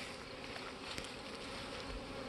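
A swarm of honey bees clustered on a plum tree buzzes steadily as bees fan at the hive entrance, a dense, even drone of many wings close by, with no voices.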